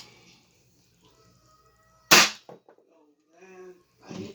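An Adventure Force Nexus Pro foam dart blaster fitted with a 16 kg spring fires a single sharp, loud snap, followed by brief rattling and a faint whirring afterward.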